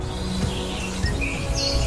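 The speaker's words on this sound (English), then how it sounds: "Quiet my mind and listen to the sound of birds." Birds chirping outdoors, a few short bright tweets scattered over a steady low background hum, moderately near with no talking.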